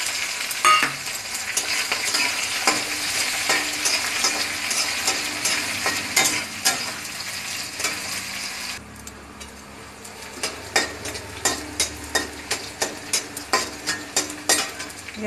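Chopped onions hit hot oil with bay leaf and whole garam masala for a mutton curry, giving a steady loud sizzle, then repeated scraping stirs of a spoon against the pan in a regular rhythm.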